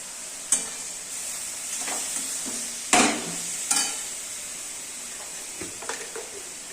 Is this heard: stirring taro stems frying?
yes